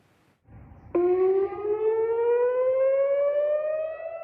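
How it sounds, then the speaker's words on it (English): A civil defense air raid siren sounds in Israel during an Iranian drone and missile attack, a loud rising wail that starts abruptly after a low rumble and holds its climbing tone. "The first siren sounded just before 2 a.m."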